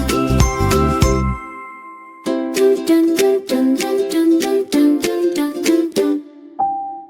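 A bicycle bell rings repeatedly in bright, tinkling chimes, set in a children's animated nursery rhyme, with a steady musical rhythm of rings over the backing tune.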